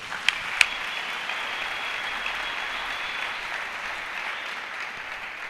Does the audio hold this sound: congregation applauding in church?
yes